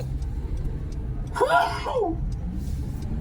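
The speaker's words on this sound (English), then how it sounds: "I'm about to sneeze, excuse me" One short sneeze bursts out mid-sentence from a speaker, a brief sharp gasp-and-release standing out over low background hum.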